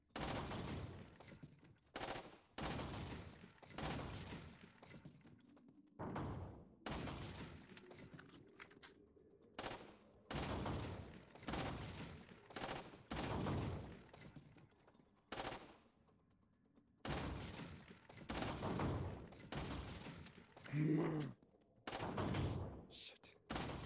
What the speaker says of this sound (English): It's a burst gun, seriously